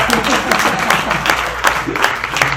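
A church congregation claps together during a preacher's sermon, a dense patter of hands with repeated sharper bursts, steady and fairly loud for a couple of seconds with voices mixed in.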